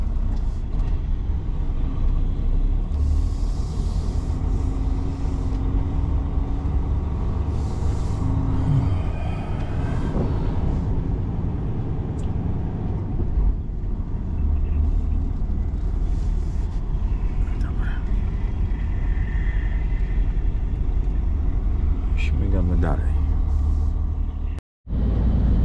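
A car rolls along a road alternating between dry, wet and icy stretches, a steady loud broadband rumble of engine and tyres throughout, with brief passing swishes and a short dropout near the end; a voice may be faintly present.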